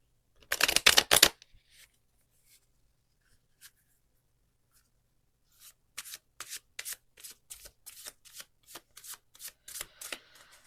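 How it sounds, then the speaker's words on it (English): Moonology oracle cards are shuffled up close during a tarot reading: a brief burst of riffling at the start, a long quiet stretch, then a run of crisp card slaps and flicks. "let's get a Moonology card"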